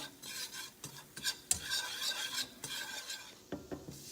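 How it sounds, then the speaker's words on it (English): A whisk scrapes and rasps in quick, irregular strokes as flour goes into melted butter and minced garlic in a pan, close and fairly quiet, with sharp metallic ticks between the brushing sweeps and no voices. "We're gonna add the flour, whisk it in there until it gets a little clumpy"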